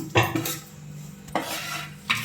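Pieces of mutton are lifted from a pan onto a plate, with three distinct metallic clinks of a utensil scraping and tapping cookware, spaced apart over a quieter background of sizzling.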